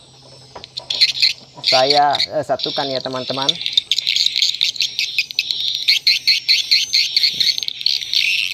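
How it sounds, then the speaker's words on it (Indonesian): A recorded tarik senja bird lure call plays as a repeated, high chirping birdsong, continuous and fairly loud, with someone speaking over it briefly near the start. "ini adalah suara dari"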